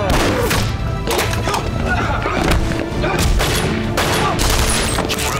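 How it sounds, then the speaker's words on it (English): Heavy gunfire in a film trailer for a war thriller, dense continuous volleys of shots with thumps and booms, loud and close, with voices speaking over the barrage. "We're taking heavy fire."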